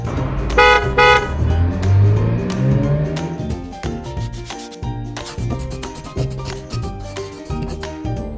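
A car with honking horn, heard as a rumbling engine with short repeated toots and beeps in an uneven rhythm, loud and close, backed by a tonal musical bed.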